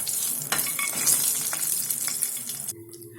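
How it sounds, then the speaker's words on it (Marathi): Cashews sizzle steadily as they fry until golden for a pressure-cooker matar pulao, with scattered stirring clicks before the frying suddenly quietens near the end. "आणि सोबत काजू याला छान परतून घ्यायचं"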